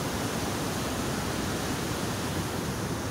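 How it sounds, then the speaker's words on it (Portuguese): Steady, dense roar of water pouring over the second drop of a waterfall among huge rocks, a continuous broadband rush with no pauses and no voices. "Da segunda queda da água."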